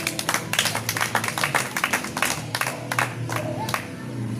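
A church congregation at a Wednesday prayer service claps in a lively burst of applause to honor God, quick hand claps rising and falling together throughout.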